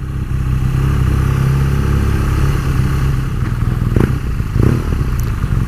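Engine of a 2018 BMW R nineT Pure motorcycle, loud and close while overtaking through town traffic, a steady low throbbing drone with a couple of brief revving surges near the end.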